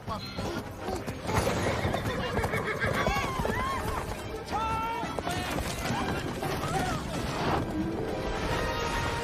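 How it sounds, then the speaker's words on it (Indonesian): A horse pulling a carriage neighs and whinnies several times over steady clip-clopping hooves, set against busy, loud background sound and music throughout. "Eric membiarkan Ariel untuk mencoba mengendarai kereta kuda"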